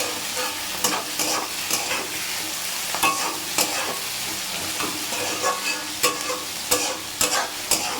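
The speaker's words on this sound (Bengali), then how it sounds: "চলুন পেঁয়াজটা লাল লাল করে ভেজে নেব" Onions frying in a pan give off a constant, close sizzle, broken by sharp, repeated scraping taps as they are stirred at an uneven rhythm.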